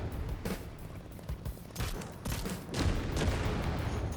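Two tank cannons on a vehicle in the Trailmakers video game fire rapidly in repeated booming bursts with a steady low rumble underneath, growing denser toward the end.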